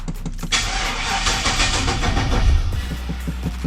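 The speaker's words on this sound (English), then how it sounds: "Let's get a cold start on the OBS." A Chevrolet OBS pickup truck engine cranks and catches on a cold start, then roars loudly up to speed before settling into a rough, rumbling idle.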